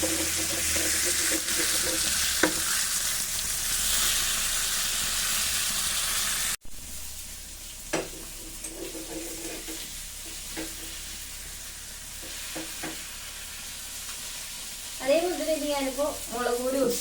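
Fish frying in a pan with plenty of black pepper and little other spice, a steady broadband sizzle that drops sharply partway through, followed by quieter crackling, a few clinks and a voice talking near the end.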